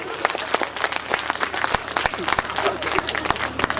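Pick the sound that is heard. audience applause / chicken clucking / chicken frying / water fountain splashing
audience applause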